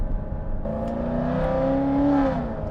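A 2023 Corvette C8 engine revs steadily and loudly, its tone rising smoothly and then easing back, heard from close by inside the car.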